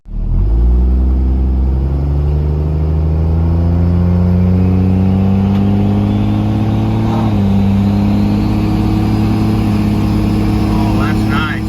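Mega Cab truck with a new S475 turbo pulling away and accelerating, its loud engine drone climbing steadily in pitch through the gears, close and continuous, with faint turbo whine and no talk.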